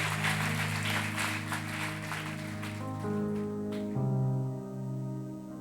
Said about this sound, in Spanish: A eso sí te puede aplaudir.